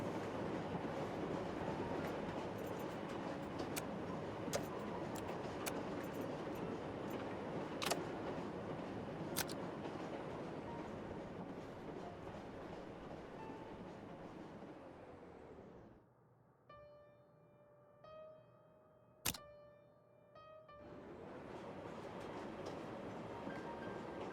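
A train in the dispatching game Rail Route rumbles along steadily with rhythmic clatter, fading briefly into near quiet with a few sharp clicks before the rolling noise returns.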